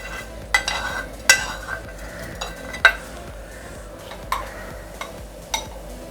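Tempering spices sizzle in hot oil for a hotel-style chutney, a soft frying hiss broken by several sharp clinks of a utensil against the pan at irregular intervals, close by with no talking.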